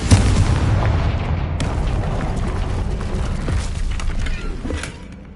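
A booming blast from the Confringo spell in Hogwarts Legacy erupts loudly and fills the space with a broad rumble, then fades into a long rolling decay with faint creaks.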